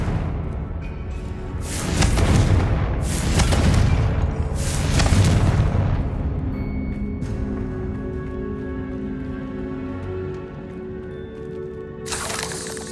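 Booming blasts from a fire spell cast in a video game, several deep rumbling explosions in quick succession, then a long fading tail with lingering ambient tones.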